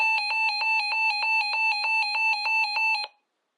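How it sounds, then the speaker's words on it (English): A weather radio's siren test, a rapid pulsing electronic warble of piercing beeps, steady and loud up close, cutting off abruptly after three seconds. "let's do a quick siren test of this radio."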